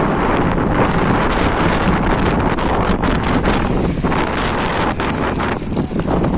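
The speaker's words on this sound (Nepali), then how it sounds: "हावा चाहिँ डेन्जर आछ" Strong gusts buffet the microphone outdoors in Abu Dhabi, producing a loud, continuous roar that fills the whole stretch without letup.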